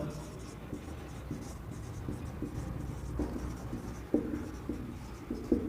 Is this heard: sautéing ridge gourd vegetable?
no